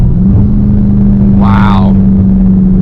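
A Dodge Charger SRT Hellcat downshifts on a city street, a steady low engine drone broken by one quick rising rev blip partway through.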